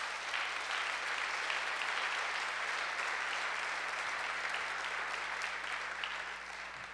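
A church congregation applauds in a steady, dense wash of clapping that holds evenly for several seconds before tapering slightly at the end, heard alone without speech.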